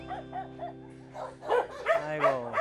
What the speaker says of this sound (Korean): 다른 강아지들이 짖으니까 무서워서 등에 털이 이렇게 많이 섰어요